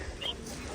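A rooster clucks briefly and softly nearby, a short low call set against faint background noise, with no talk.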